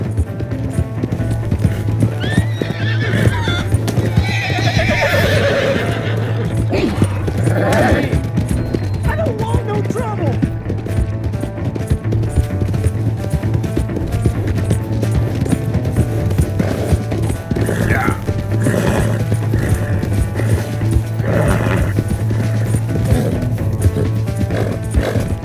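Rhythmic hoofbeats clip-clop along with a horse whinnying in the video game Red Dead Redemption 2, set against a steady low drone and voices talking intermittently.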